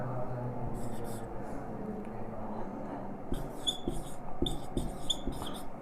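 Pen or marker strokes writing digits by hand during a simplification math lesson, soft scratchy bursts in short repeated groups, clearer in the second half, over a low room hum with no talking.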